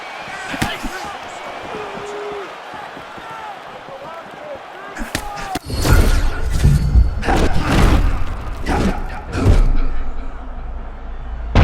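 Heavy punch landing to the head in EA Sports UFC 6, a round 5 fight between Tatsuro Taira and Kai Kara-France, struck as a loud slam with a burst of repeated thuds and crowd noise under commentary.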